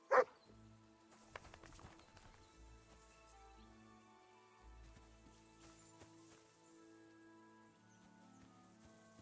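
Dog barks from a video game: a loud, sharp yelp right at the start, then quieter scattered barks and yips over game music and footsteps.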